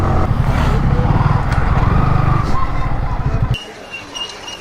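A motorcycle climbs a broken mountain road toward Sajek Valley, its engine rumbling loud and close with uneven throttle, then dropping away abruptly to a faint murmur in the final second.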